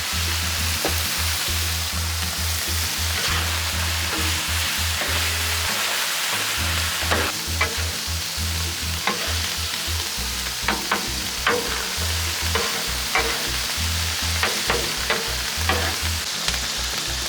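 Hamburger and chorizo sizzle on a Blackstone griddle, a loud, continuous close frying hiss dotted with sharp spatula scrapes and taps against the flat metal surface.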